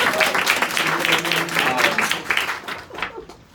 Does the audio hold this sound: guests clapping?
yes